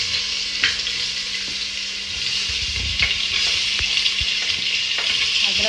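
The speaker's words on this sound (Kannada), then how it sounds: "ನೋಡಿ ಈಗ ಈರುಳ್ಳಿನ ಹಾಕ್ತಾ ಇದ್ದಾರೆ." Onions sizzle and fry steadily in a hot pan while a chapati veg roll is cooked, with occasional stirring scrapes over a constant crackling hiss and no talking.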